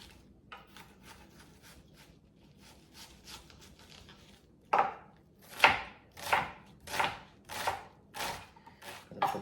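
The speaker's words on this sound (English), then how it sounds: "And we're going to cut that into cubes." A knife chops food into cubes on a cutting board, first with quiet light taps, then with a run of louder, evenly spaced thuds, close by and alone.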